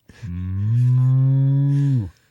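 A voice imitates a Jersey cow mooing, giving one long, loud, steady low moo of about two seconds that swells and then cuts off cleanly, with no other sound around it.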